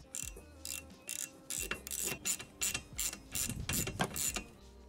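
Ratchet undoing a 13 mm nut on a Vauxhall Corsa wiper arm, close mechanical clicking in rapid repeated bursts with brief pauses between strokes.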